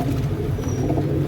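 Pigeons coo with low, throaty, burbling calls that run continuously and overlap, close and fairly loud.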